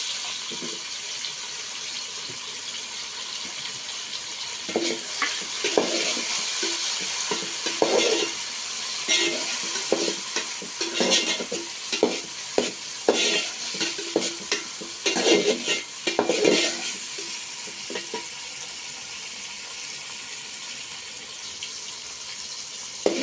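Tomatoes and green chillies sizzling in a pan for lentil sambar, a steady moderate hiss broken by frequent scraping and clattering stirs, with no talking.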